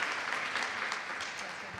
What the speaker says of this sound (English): May I have a round of applause for our hosts in different forms?